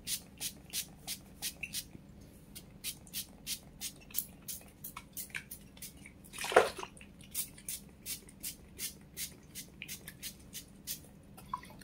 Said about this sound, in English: spraying the hair.